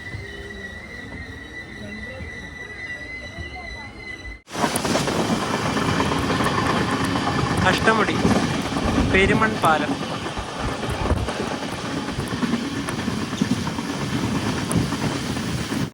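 The Guruvayur–Thiruvananthapuram Intercity Express runs near Munroe Island and Kollam with a loud, steady rumble of wheels and carriages that starts abruptly after a few seconds of quieter sound, with brief squealing tones and a voice speaking at the start.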